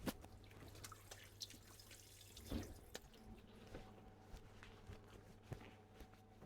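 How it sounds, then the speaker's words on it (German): Hands being washed under a running kitchen tap, a low steady water flow with scattered drips and light splashes, fairly faint, with a few soft knocks and footsteps around it, and no talking. "So, Hände waschen."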